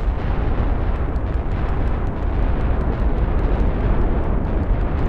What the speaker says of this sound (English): You know what, I'm just gonna bomb everything.